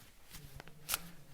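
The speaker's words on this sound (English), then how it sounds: "Shuffle the cards a bit." A deck of tarot cards is shuffled during a reading: soft, quiet riffling and light card taps in a brief burst, with a faint low hum beneath and no talking.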